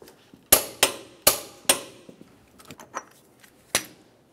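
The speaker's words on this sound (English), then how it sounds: "Now we can torque this to 180 foot-pounds." A torque wrench tightens the front upper ball joint nut to 180 foot-pounds on a 1994-2002 Dodge Ram 2500. Several sharp metallic clicks and knocks come in an irregular series, close and crisp, with quieter taps between them.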